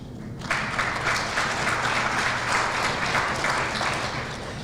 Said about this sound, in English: we'll keep clapping for them